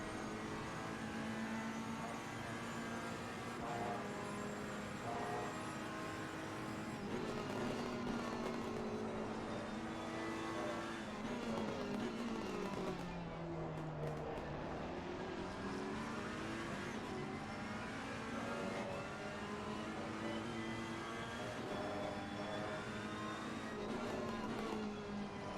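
A Ferrari race car's engine howls from onboard at Misano during a six-hour endurance race, steady and fairly faint, with pitch rising through the gears and one clear dip as the car brakes and downshifts.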